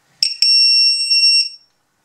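A LiPo battery monitor on a remote-control MAN TGS truck gives a sharp, loud electronic beep, a couple of quick chirps merging into one sustained high tone that then cuts off, otherwise silent.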